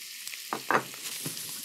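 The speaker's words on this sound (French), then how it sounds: "dans une poêle chaude, je verse un filet d'huile d'olive et je vais faire revenir mes moules 2 à 3 minutes" Mussels sauté in a drizzle of olive oil in a hot pan, giving a short burst of soft sizzling with a couple of quick stirring scrapes.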